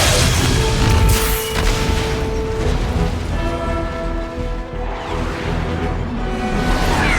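A starship's main battery unleashes a huge barrage in Halo 4, heard as a loud continuous roaring boom with crackling, rain-like debris and layered rumbling explosions that hold steady for several seconds.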